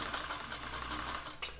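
A Brother free arm sewing machine running steadily through a satin stitch, a continuous even mechanical whir at close range with a brief click near the end.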